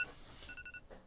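Short electronic phone tones beep in quick succession at low volume, a brief, thin ringtone-like pattern from a meme compilation.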